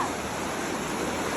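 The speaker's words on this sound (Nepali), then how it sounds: "अब चाहिँ हामी यो खोला तारेर जानुपर्छ" A river stream being crossed on foot rushes in a steady, full wash of water noise, close and continuous, with no voices.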